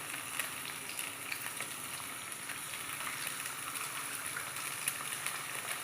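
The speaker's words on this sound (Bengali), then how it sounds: "এবার আমি এর ভিতর দিয়ে দেব ডিম" Eggs frying with browned onions for egg chow mein, an even, faint hiss of sizzling oil that holds steady throughout with tiny crackles.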